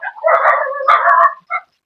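Dogs bark in short, loud, close bursts by a roadside, about three yips and barks with brief gaps between them and no talk over them.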